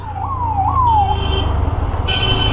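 Police siren wailing nearby, rising and falling sweeps followed by a steadier tone, loud over traffic and engine rumble, with no voices.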